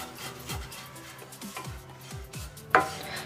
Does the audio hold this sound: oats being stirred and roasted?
yes